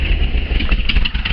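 A 1976 VW camper engine idles unevenly, a loud close low rumble with a rough, pulsing beat over a short stretch and no voices.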